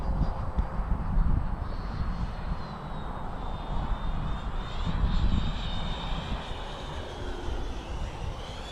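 A 90mm EDF RC F-22 jet model in flight, its ducted fan whining steadily with rising and falling pitch as it passes, loud and continuous.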